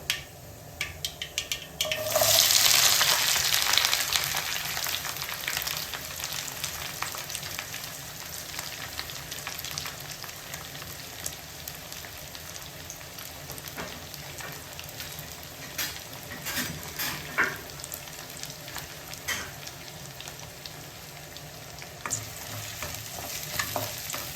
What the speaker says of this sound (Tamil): கடுகு வெடிச்சோடனே வெங்காயம், பூண்டு, கருவேப்பிலை 3மே சேர்த்துக்கிறேன்.